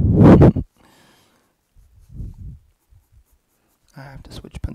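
Pencil strokes scratching across paper while sketching fur in a drawing of Haku from Spirited Away, a dense burst of scribbling at the start, then softer scattered strokes.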